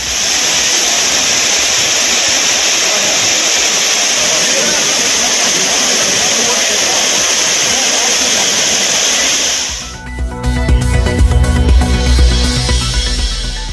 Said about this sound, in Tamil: சீசன் முடிந்த பிறகும் குற்றால அருவிகளில் சீரான நீர்வரத்து